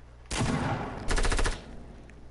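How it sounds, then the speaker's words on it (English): Gunfire in the video game Fortnite, a short burst of rapid shots followed by a second tighter cluster of cracks, fairly faint and brief. "I'm getting shot at."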